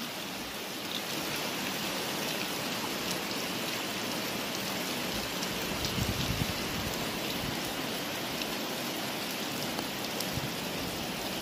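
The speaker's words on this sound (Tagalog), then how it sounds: "Kasi umuulan." Steady heavy rain pours down on an afternoon outside a house doorway near garden plants, a dense continuous hiss with no voices.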